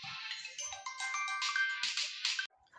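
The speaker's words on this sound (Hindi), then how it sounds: "हमारा वो फोन आ गया, अब हम क्या करें उसको?" A melodic phone ringtone chimes continuously for about two and a half seconds at moderate volume, then cuts off abruptly, with no one talking over it.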